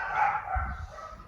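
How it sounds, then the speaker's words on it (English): A pet dog barks during a ceramic coating job on a Ford AU Falcon. The barks come as a short, fairly close burst of about two yaps, loud and alone over a faint background. "Of course the dog has to have her say at the moment"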